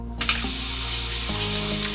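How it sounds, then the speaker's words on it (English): Self-cleaning spray from the nozzle of a handheld toilet bidet sprayer, a steady close hiss of water that runs continuously after a brief start. "To clean the nozzle here, it's got the cleaner that you can do like this,"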